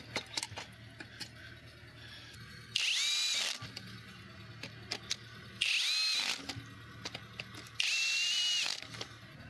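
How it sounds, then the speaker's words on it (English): A power drill or impact driver tightens a bracket back into place on an abandoned car, firing in three loud, short bursts with quieter clanks and handling noises in between. "I'm going to take this bracket, put it back where it belongs, line it up, and tighten it down properly."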